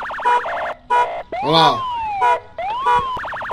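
A car alarm on a recovered stolen car wails through rapid warbling tones, chirps and rising sweeps in repeating bursts, loud and close, with someone briefly talking over it.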